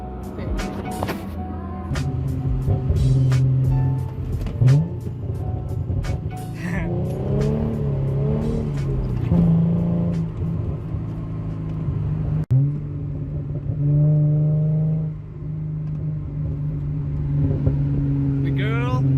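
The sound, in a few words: Hyundai Genesis Coupe engine revving with exhaust pops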